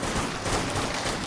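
Dense, continuous gunfire in the zombie shooter game Dead Nation, a loud, rapid rattle of shots packed together with no pauses over a short burst.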